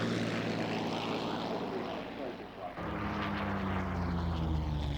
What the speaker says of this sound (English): The Spitfire is being flown by Rolf Meum from the Norwegian vintage aircraft collection.